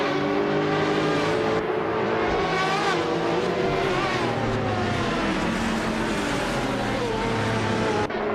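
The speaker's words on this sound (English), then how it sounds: "the race is underway at Fuji Vintage Can-Am" Race cars roaring off the start in a video game at Fuji, including a BMW M3 E92 GT2, engines loud and close as they rev and shift up, several cars layered together with a brief drop before climbing again.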